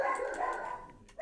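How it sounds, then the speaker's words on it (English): A dog gives a drawn-out, tonal bark or whine close by, sliding slightly in pitch, followed by a short sharp yip at the end. "I love my dogs barking."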